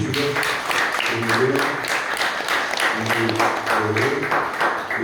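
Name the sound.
respectful applause from audience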